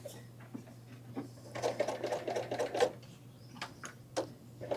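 Serger sewing machine trimming fabric layered with fusible fleece, running in quick bursts of rapid stitching with a steady low motor hum, close by and without talk.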